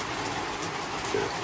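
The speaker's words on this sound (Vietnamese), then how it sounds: "Trời đang mưa." Rain falls outdoors in a wild rural spot, a steady, dense hiss that stays even throughout at moderate loudness, with no voices.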